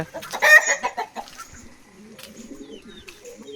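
Chickens cluck and call at a farm house in dense forest in Nelliyampathy, where ducks are also kept. Several birds are heard close and fairly loud at first, then softer clucking continues.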